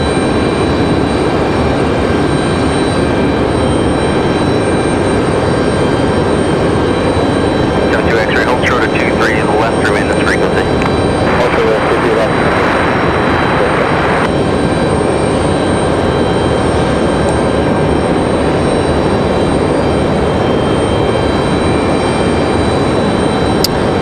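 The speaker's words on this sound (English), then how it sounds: "JetBlue 2783 coming in from Boston, Mass." JetBlue jet on arrival at Raleigh Durham from Boston, a loud sustained engine roar that swells and holds, with a brief burst of higher whine midway and a voice talking over it.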